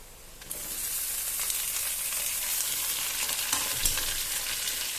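Onions and boiled potatoes frying in a pan while being stirred, a loud steady sizzle that bursts in after a moment and stays dense and close, with occasional scraping of the spoon.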